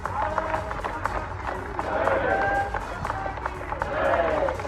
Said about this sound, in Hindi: जिंदाबाद और तालियों की गड़गड़ाहट